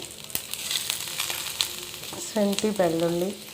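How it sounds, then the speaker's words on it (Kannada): Mustard seeds and curry leaves sizzle and crackle in hot oil for a Tamil Nadu style rasam tempering, a steady close fry with a brief louder hiss near the end as more goes into the pan. "ಸ್ವಲ್ಪ ಸಾಸಿವೆ ಸಿಡಿದ್ಮೇಲೆ ಮಾಮೂಲಿ ಒಗ್ಗರಣೆ ಕೊಡೋ ಥರನೇ ಕರಿಬೇವಿನ ಸೊಪ್ಪು ಹಾಕ್ಕೊಂಡು"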